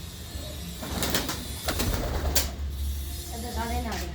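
Large old Red China pigeons coo in a loft of two connected coops, a soft steady murmur of several birds under a continuous low hum, with brief rustles and a faint trill near the end.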